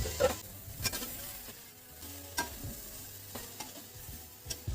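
Fried fish heads tipped into a pan of vegetables and stirred, a quiet low sizzle broken by sharp clattering stirs and knocks at irregular intervals, no talking.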